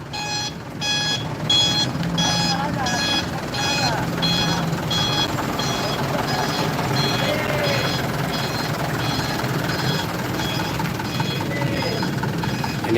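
A tow truck at an overturned vegetable truck accident near a roundabout in Pematang Siantar gives steady repeating reversing beeps over engine rumble and traffic noise, with voices talking throughout.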